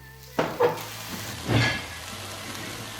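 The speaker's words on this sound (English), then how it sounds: "I'm just going to let them sizzle away there for a minute or 2." Lamb sizzles in a hot frying pan, with a couple of sharp clatters as pieces are stirred, then a steady crackling hiss.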